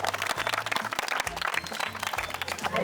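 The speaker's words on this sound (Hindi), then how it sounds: "चलिए इनको लिए जोरदार ताली मारिए तो एक बार।" An audience at a live food challenge show claps vigorously, a dense, steady patter of applause running the whole time over a booming low musical beat.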